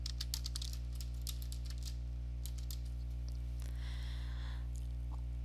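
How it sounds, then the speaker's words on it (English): Keys clatter on a computer keyboard in quick, uneven bursts, clearest in the first three seconds and then sparser, all over a steady mains hum. "On the next screen, you will type in the name of your member organization."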